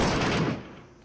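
A quick burst of rapid video-game gunfire crackles loudly, then tails off into a fading echo within about a second, with no talk over it.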